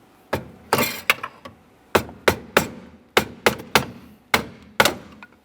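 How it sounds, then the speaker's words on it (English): A hammer strikes a pry bar to knock a steering shaft off the steering column of a 2001–2005 Ford Explorer Sport Trac, producing about a dozen sharp metallic bangs in uneven bursts, close up, with no talk. "I'll give it a couple loving bonks with a pry bar and a hammer"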